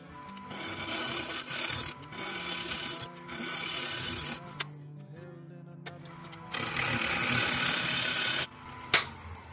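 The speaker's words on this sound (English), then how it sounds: "then we'll start hollowing out the bowl" Wood bowl being hollowed on a Powermatic lathe, a steady scraping, rasping cut that pauses briefly midway, then resumes loud and close before ending with a sharp knock.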